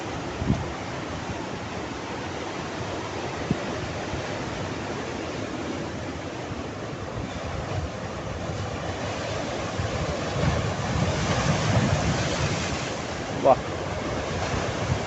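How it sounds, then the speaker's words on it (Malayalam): Continuous rushing roar of ocean surf on a rocky beach at Pondicherry, waves swelling and washing in, mixed with gusty wind buffeting the microphone, no clear voices. "ആഹാ മനോഹരമായ ഒരു തിര ഇതാ നമ്മളെ തഴുകാൻ വേണ്ടി പാഞ്ഞു വരുന്നുണ്ട്"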